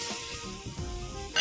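Chicken and a generous amount of onion frying in a pan give a soft, steady sizzle with light stirring scrapes, close and moderately loud, with a brief louder burst at the end.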